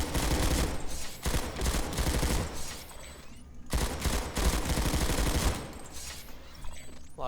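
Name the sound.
gunfire shooting in video game Planetside 2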